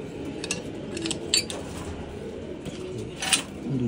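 Pigeons in breeding boxes keep up a soft, continuous cooing, broken by a few sharp metallic clinks like tapping dishes or cutlery.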